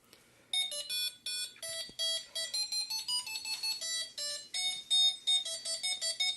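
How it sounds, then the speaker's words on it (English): A student-built, hand-sensing alarm device sounds its alarm: a loud, high, electronic melodic beeping in rapid, regular pulses that runs continuously after a short quiet start. "it's going to switch into the alarm state, play the alarm, and blink LED number 4, the white one, rapidly"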